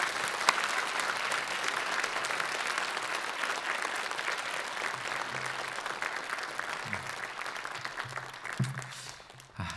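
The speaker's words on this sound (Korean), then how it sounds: "우리 마음을 담아 박수로 환영하겠습니다" A church congregation applauds to welcome a visiting pastor, steady dense clapping that fills the room and carries on throughout before thinning slightly near the end.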